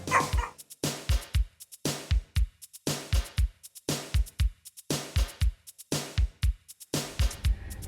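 A dog barks in a steady, insistent rhythm, sharp close barks repeating about once a second, loud and alone with no talking.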